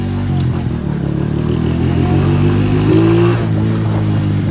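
Motorcycle engine, a low-slung CG, revving hard under heavy throttle with a steady close, loud rumble and a brief rising surge partway through, no talk over it.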